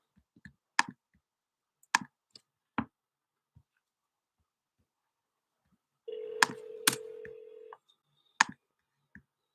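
A telephone is dialed for a call: scattered light clicks and taps, with a short steady dialing tone in the middle.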